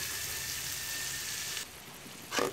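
Spice paste with white mustard paste sautés in a pan for hilsa fish with taro greens, a steady soft frying hiss throughout that drops slightly near the end, with a brief louder burst of stirring or scraping.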